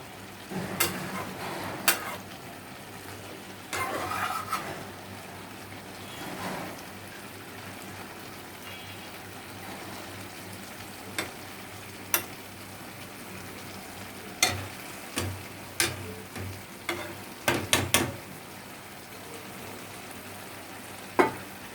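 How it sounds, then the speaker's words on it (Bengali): Bitter gourd and pangas fish frying in a pan, a continuous gentle sizzle punctuated by scattered sharp scrapes and clacks of a spatula stirring, close and fairly quiet. "একটু লাড়াচাড়া দিয়ে দিচ্ছি উপর থেকে নিচে যাতে সবগুলো ঠিক মতন রান্না হয়"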